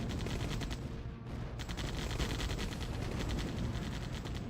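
Continuous gunfire from Humvees, APCs and tanks in the real-time strategy game OpenRA Tiberian Dawn, heard as a steady dense rattle of overlapping small-arms shots that stays fairly quiet throughout.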